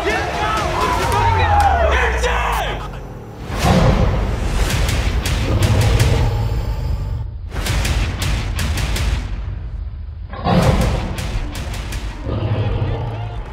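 Crowd at a high school football game in Tigers Stadium, Weslaco vs Mercedes, roars as teams return after halftime; a loud, rumbling mass of cheering in surges, with sharp booming bursts and a voice heard over it.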